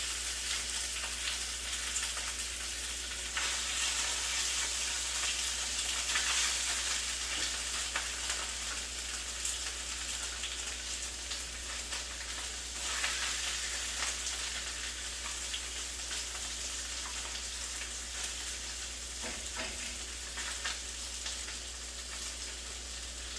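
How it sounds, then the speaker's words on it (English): Shredded carnitas pulled pork frying in a pan over medium-high heat, a steady dense crackling sizzle with occasional louder pops and stir-like shifts, continuous and close with no talking. "now that the carnitas are in the pan, we're not going to touch them. We're just going to let them fry for a couple of minutes"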